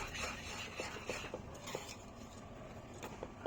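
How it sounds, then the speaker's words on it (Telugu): Boondi gets stirred into sugar syrup in a pan, with soft, faint scraping and clinking of a spoon against the pan in irregular strokes over a low background hiss. "స్టవ్ సిమ్లో పెట్టేసి బూందీ అంతా కలిపేసుకోవాలండి"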